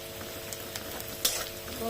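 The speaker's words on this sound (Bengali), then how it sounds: "হলুদটা একটু নেড়ে চেড়ে নিচ্ছি" Ground turmeric sizzles softly in hot oil with fried onions for potato dum, while a few light scrapes and taps of stirring punctuate the quiet frying.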